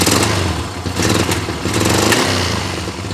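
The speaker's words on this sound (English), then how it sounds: "You rev this bike up, it wants to just jump out of the way." Yamaha XS650 parallel-twin motorcycle being revved, a loud, close burst of raw engine roar that swells, dips and climbs again over a few seconds, with no talking.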